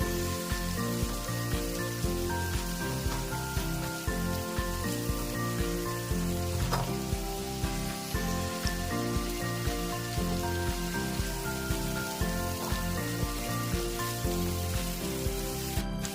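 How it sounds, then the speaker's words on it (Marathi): Onion sautés in a pan for masala pav, a continuous soft sizzle and crackle at low volume with no one speaking. "परतून घेतात कांदा कांदा थोडा हलकासा सोनेरी रंग येईपर्यंत"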